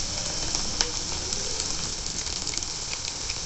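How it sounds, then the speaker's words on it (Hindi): Bitter gourd (karela) slices fry in smoking hot oil with a steady, close hiss and scattered crackling pops, heard alone. "देखिए तेल अच्छा गर्म हो गया, धुआं आ रहा, अब इसमें हम डिप कर देंगे।"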